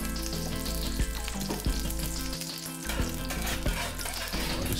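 Egg and salt omelette mixture with filling sizzling steadily in a hot pan, a continuous loud fry with occasional soft knocks of stirring, no talk.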